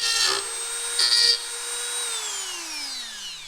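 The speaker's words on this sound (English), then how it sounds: "I'm cutting out the majority of this hole with the Dremel" Handheld Dremel rotary tool cutting out a hole for a brake light switch on a street-legal KX100 dirt bike, a steady high whine that winds down in pitch as the tool slows, heard alone and close.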